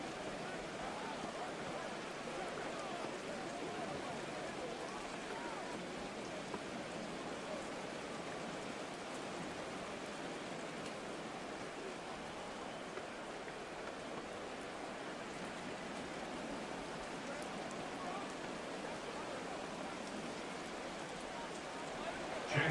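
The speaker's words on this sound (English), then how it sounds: "The rain set to continue as we are underway in the second half." Rain falls during a Madden 24 football game between the Buccaneers and Patriots, a steady, even hiss of downpour that continues unbroken at moderate level, with commentary voices over it.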